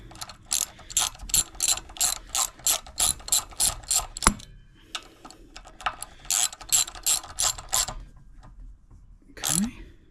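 Ratchet wrench tightening the front-axle pinch bolt on a 2022 Harley-Davidson Street Bob 114: two long runs of quick, even clicks separated by a short pause, close and crisp.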